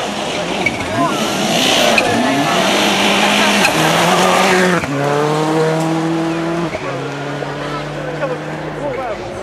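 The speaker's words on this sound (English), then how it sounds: "That's a Corolla." A Toyota Corolla rally car at the 2004 Sunseeker Rally in a Northumberland village, its engine loud and close with pitch sweeping down through gear changes as it passes, while people talk nearby.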